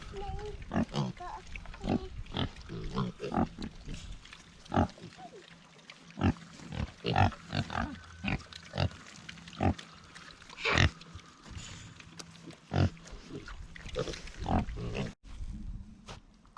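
Pigs grunting in a farm pen, a run of short, close grunts and oinks repeating irregularly, with people talking over them.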